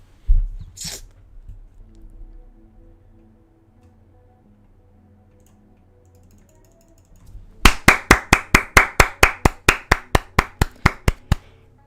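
A rapid run of about twenty sharp hand claps, close and loud, follows a quiet stretch that opens with a brief thump and a short hiss.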